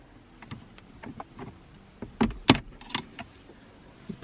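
Metal trim tool prying the shifter cable ball ends off their mounts on a Ford Focus RS shifter base, a few sharp clicks and one louder pop close up amid small metallic handling sounds.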